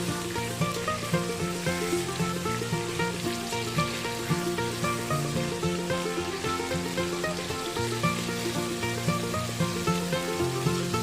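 Chicken frying in a tawa pan over a high flame gives a steady, dense sizzle with constant crackling spatter, close and even throughout, with no voices.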